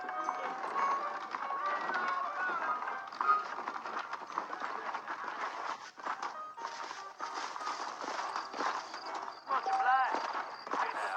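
Saddled horses clip-clop steadily along in the Red Dead Redemption video game, a continuous patter of hooves running beneath ongoing talk.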